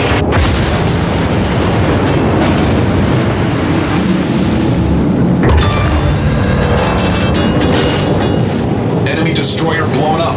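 An enemy destroyer blowing up in World of Warships, a loud, sustained roaring blast with booming rumble and a fresh burst midway, set over engine and water noise and occasional game voice lines.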